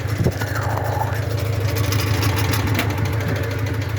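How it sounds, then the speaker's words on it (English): The original engine of a 1973 Citroen 2CV idles steadily with a low, even putter, close by and continuous, with no talking. "After all those years, it still runs, the original engine."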